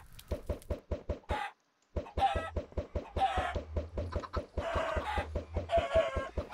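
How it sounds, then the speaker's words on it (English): Minecraft chickens, several of them babies, cluck in quick repeated bursts throughout, loud and close, with one brief pause and no talking. "So now we have 4 chickens, or 5 chickens it looks like, and they're babies"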